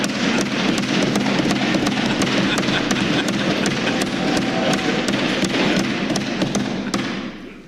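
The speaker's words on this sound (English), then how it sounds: "his colleagues banged their desks and shouted" Members of the Trinidad and Tobago parliament pound on their desks during a budget debate, a dense, loud, continuous drumming of thuds and raps with crowd noise underneath that fades out at the end.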